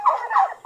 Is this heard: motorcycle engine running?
no